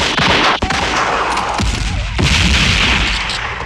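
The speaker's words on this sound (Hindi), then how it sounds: "I need covering fire. I repeat, I need covering fire." Heavy gunfire from a war film battle scene, loud continuous bursts and booming shots with sharp cracks throughout, dense and close, no clear speech.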